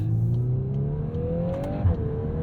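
A 2022 Volkswagen Golf R with a DSG gearbox accelerating, its engine note climbing steadily in pitch, then dipping briefly at a gear change before pulling again, heard close and clear without talk.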